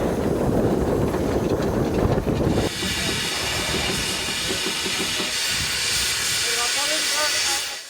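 Loud, steady steam hiss dominates from a restored 12-ton steam tractor over 100 years old, with a heavy rhythmic chuffing and clanking engine beneath it and a few brief squeals later.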